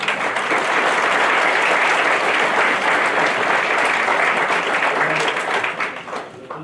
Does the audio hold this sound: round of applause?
yes